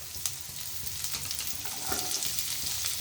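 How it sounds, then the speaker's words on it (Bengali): Carrot and beetroot go into hot oil with fried ginger and sizzle steadily up close. Scattered stirring scrapes and taps sound over the frying, and nobody speaks. "আদা ভাজা হয়ে গেছে, দিয়ে দিচ্ছি গাজর আর বিট"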